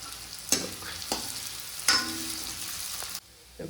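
Onions fry and get stirred in hot oil for a mutton curry, a steady close sizzle broken by several sharp scraping stirs of the spoon in the pan, with no talk.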